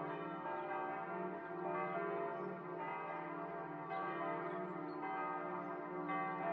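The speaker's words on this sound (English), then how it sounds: "Can show you the bells, because they're just above." Church bells ring close and loud from just overhead in the tower, overlapping peals with rich ringing overtones sounding continuously without pause.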